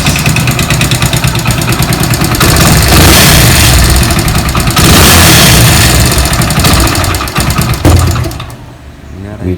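A Hero Honda motorcycle engine starts up and runs, a loud close mechanical rumble with rapid firing pulses that rises and holds, then eases and fades near the end before briefly picking up again.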